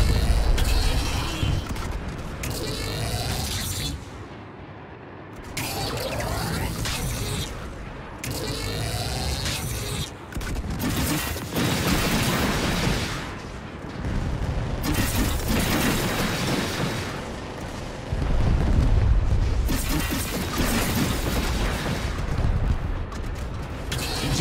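Rocket launcher fire and explosions in the video game Saints Row, a chaotic run of booms, mechanical clatter and rumbling blasts that surge and drop repeatedly over a long stretch of loud combat.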